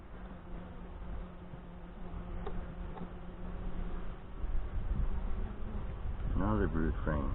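Saskatraz honey bees hum steadily around an open hive frame in a Northwest Wisconsin apiary, a low continuous drone with a voice speaking briefly near the end.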